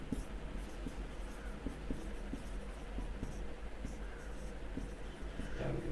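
Chalk or marker writing on a classroom board during a chemistry lesson, giving steady scratchy strokes with small taps throughout, fairly close, over a constant low room hum with no voice.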